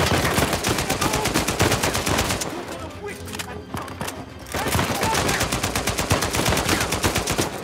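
Loud, rapid gunfire crackles through an Uncharted 4 video game shootout in long dense volleys, easing off for a couple of seconds in the middle before picking up again, with someone talking in places.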